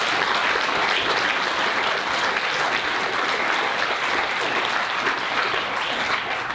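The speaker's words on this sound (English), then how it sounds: "I do want to give a special round of applause to Commissioner Dancer." Sustained audience applause for Commissioner Dancer at a State of the City event, a dense, steady clapping that holds at full strength for the whole stretch with no talk over it.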